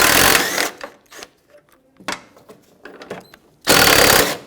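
A power tool drives a 13mm socket to remove the tailgate latch bolts on a 2007–2014 Chevrolet Silverado, giving loud whirring bursts at the start and end with quieter clicks and handling noises between.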